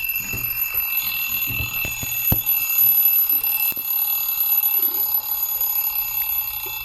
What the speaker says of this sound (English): Yep, it's pretty much just an egg timer.